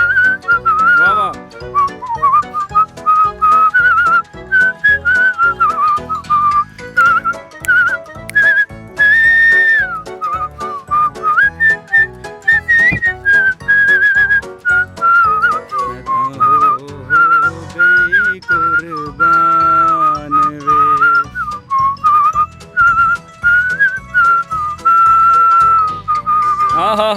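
A man whistles loudly and continuously, a shrill, wavering melodic line with rapid trills and slides, close and dominant throughout with short breaks.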